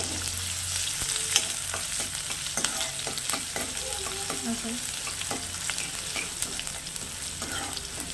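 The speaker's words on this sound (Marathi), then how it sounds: "यामध्ये मी कांदा टाकणार आहे कांदा आता मऊ लालसर होईपर्यंत परतवून घेणार आहे" Onion sautés in a spoonful of hot oil in a pan and gives a constant soft sizzle, broken by light clicks and scrapes as it is stirred.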